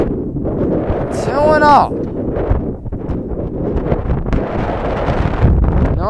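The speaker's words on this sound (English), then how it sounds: "Try pitching with sharp wind like this." Strong, gusty wind roars across a high school baseball field, buffeting the microphone with heavy broadband rumble throughout while a commentator speaks briefly over it.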